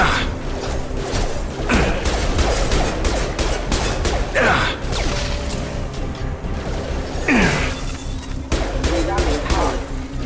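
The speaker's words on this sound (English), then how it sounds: "Taking heavy fire!" Heavy, sustained gunfire in a Mass Effect 2 combat scene, dense rapid shots with a few swooshing projectile sweeps cutting through, loud and continuous for about ten seconds.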